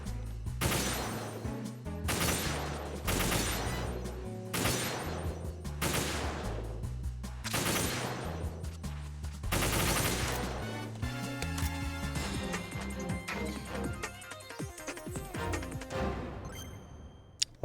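Repeated rifle shots from the PSG-1 sniper rifle in Metal Gear Solid 2 VR Missions, loud sharp cracks with ringing decay spaced about one to two seconds apart, then a denser stretch of impacts and clatter toward the end.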